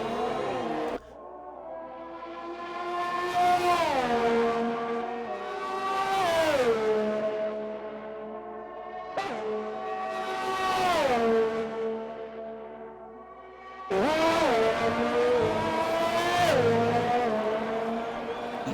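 Race car engine in a racing video game rounding a hairpin, a loud high-pitched roar that drops sharply on downshifts and climbs again in repeated rev cycles, four surges over nearly twenty seconds with no talk.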